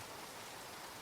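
Steady rain falls on a roof at night, a soft, even hiss of drops with no breaks, quiet and continuous, heard alone without talk.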